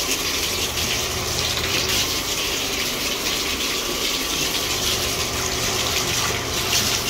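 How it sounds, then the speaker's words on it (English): A hotel bathroom shower runs steadily at full flow, a loud continuous hiss and splash of water with no pauses and no voices. "and the shower head."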